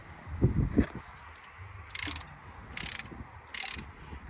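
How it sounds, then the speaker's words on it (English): A brake caliper piston on a Ford Focus mk2 1.6 TDCi is ratcheted back: soft mechanical clicking, then three short, sharp bursts of ratchet-pawl clatter at steady intervals, close by, with no talk. "So let me ratchet back the piston."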